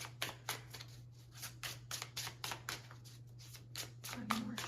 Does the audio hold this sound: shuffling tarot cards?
yes